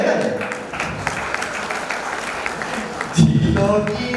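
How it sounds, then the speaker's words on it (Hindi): A crowd applauds at a Hindi comic poetry gathering in Udaipur. The clapping is steady and mixed with a speaking voice, with a louder swell near the end. "जब तक ताली नहीं आ जाए हाथ ऊपर ही रहेगा।"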